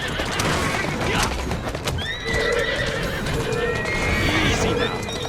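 A horse in Assassin's Creed Syndicate neighs loudly and close, long wavering whinnies layered over clip-clopping hooves and street ambience, with some talk mixed in.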